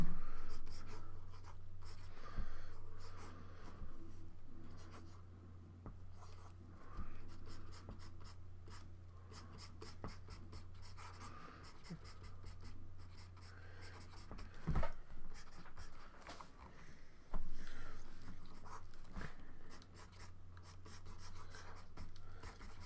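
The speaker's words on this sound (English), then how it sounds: "I'm gonna draw the hand down a bit. So draw draw a bit of sword on here now." Pencil or stylus sketching the figure and sword of a new painting, giving soft close scratchy strokes in uneven bursts over a faint low hum, with one sharper tap midway.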